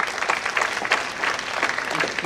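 A seated audience at a talk keeps applauding in a dense, steady stream of many hands, moderately loud, with faint voices mixed in.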